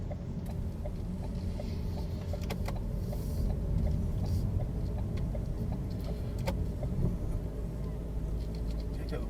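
A car's engine hums steadily from inside the cabin as it drives on through a roundabout, a low continuous drone with faint ticking and occasional soft knocks.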